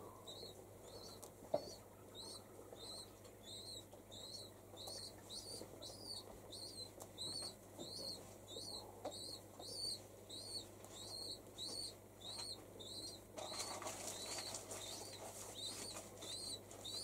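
A wild pigeon chick is fed by its parent in the morning: a faint, quick run of repeated high begging peeps with soft wing flapping underneath.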